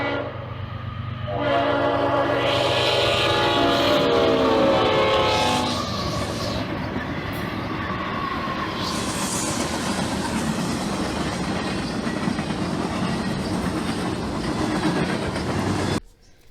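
CSX freight train passing close with a Leslie horn on the lead locomotive: loud multi-tone horn blasts over the start, then a sustained rumble and clatter of cars rolling by until it ends abruptly.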